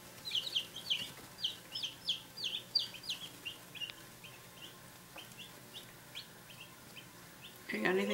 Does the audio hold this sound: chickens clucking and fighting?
yes